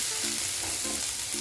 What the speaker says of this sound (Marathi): 2 मिनिटं चांगली परतून घ्यायची।